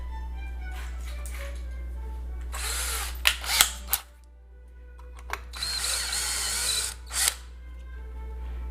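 Power drill boring a hole with a 1/8 inch bit while building a pedal board power supply: two loud whirring bursts of drilling separated by a short pause, over a low steady hum.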